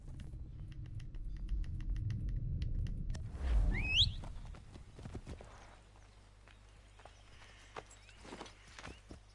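A horse's hooves clop along in Assassin's Creed 3, a low rumbling gallop that fades out midway, with a brief whinny-like sweep and sparse game effects afterward.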